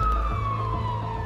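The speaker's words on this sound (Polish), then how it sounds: "Usłyszeliśmy syreny. Zobaczyliśmy, że podjechało kilka zastępów straży pożarnej." Wailing siren of a fire engine arriving at a restaurant, loud and close, one steady falling tone held throughout the short stretch with a low road rumble beneath.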